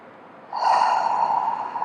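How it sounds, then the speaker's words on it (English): Relaxed inhale during a seated chair workout for seniors, a soft airy breath drawn in close to the microphone that begins partway through and holds steady to the end. "Take a nice relaxed breath in"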